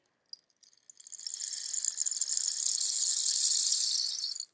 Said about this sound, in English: This is a rain stick. Listen to how it sounds when there's a little bit of rain.